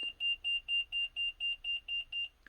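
An RV alarm on a Winnebago motorhome with a Workhorse chassis and a low battery, giving about nine evenly spaced, sharp electronic beeps in quick succession, clear and close, with no talk.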